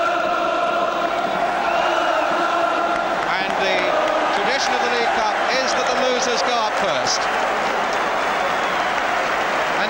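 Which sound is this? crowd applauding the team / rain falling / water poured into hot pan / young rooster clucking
crowd applauding the team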